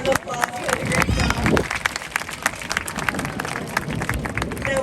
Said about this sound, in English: Give him one more great big round of applause.